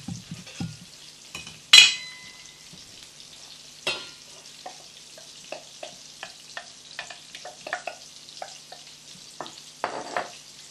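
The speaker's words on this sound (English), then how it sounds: "So if you start heating a saucepan, okay, to which we then add the tomatoes." Tomatoes going into a heating saucepan for a spicy meatball sauce give a quiet sizzle, with a sharp clatter near the start and another around four seconds, then soft ticks and taps of stirring and utensils throughout.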